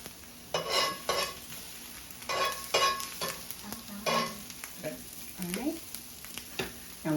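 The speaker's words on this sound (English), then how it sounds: "that popping sound is the most beautiful sound to hear when you are cooking onions" Onions frying in a pan, a soft background sizzle broken by irregular scraping stirs and small pops, with a brief voice near the end.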